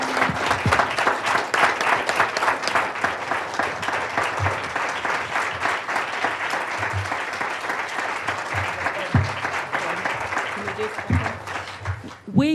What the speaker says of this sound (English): If we could give one more round of applause to all of these leaders.